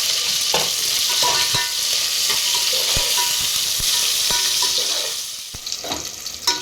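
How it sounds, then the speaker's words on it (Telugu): Biryani spices, chopped onion and green chilies fry in hot oil, giving a steady loud sizzle with occasional stirring clicks and scrapes throughout, with no voices. "ఇదిగోనండి, మనకు మసాలా దినుసులు, ఉల్లిపాయ, పచ్చిమిరపకాయలు ఇవన్నీ వేగాయి."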